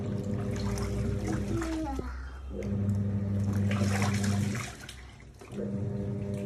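A washing machine runs with water sloshing and churning through its drum, a steady mechanical hum with a rising and falling swirl that dips briefly before resuming; close and fairly loud.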